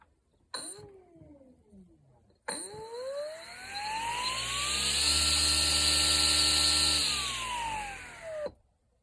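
A Profi-Tec cordless grass trimmer with a brushless motor whirs up twice in short bursts, then spins up into a long, loud, rising whine, holds at full speed and winds down, close and alone.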